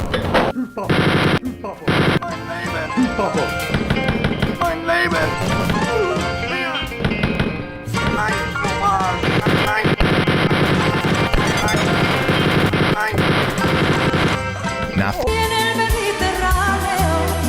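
Rapid machine gun bursts from the retro first-person shooter Wolfenstein 3D ring out loud and continuous, layered with crunchy game effects and shifting chiptune-like tones throughout.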